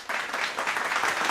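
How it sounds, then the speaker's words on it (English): A short burst of applause from a sound effect board, a dense, even patter of clapping lasting just over a second. "Lots of applause. Lots of applause."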